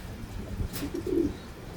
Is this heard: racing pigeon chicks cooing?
yes